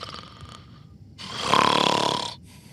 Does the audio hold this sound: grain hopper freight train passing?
no